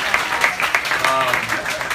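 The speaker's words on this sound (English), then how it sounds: "Round of applause, round of applause." Brief applause from a student audience cheering graduating seniors, scattered claps rising around a voice that talks over them.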